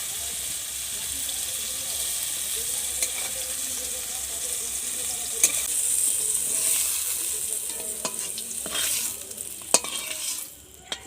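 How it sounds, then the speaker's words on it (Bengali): Chopped potatoes fry in hot oil, a continuous bright sizzle with bursts of crackling and scraping as a utensil stirs them, growing busier toward the end before dropping briefly; no talking. "এবার ওই তেলে আমি আলু কুচিটা ভেজে নিচ্ছি ভালো করে"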